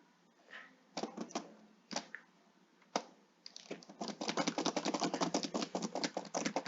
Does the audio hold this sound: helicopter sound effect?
no